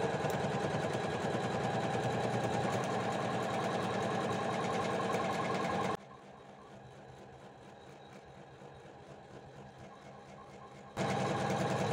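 An embroidery machine stitches the final finishing seam on a dish towel or napkin holder, giving a steady rapid mechanical buzz that drops to a quieter run midway before returning at full level.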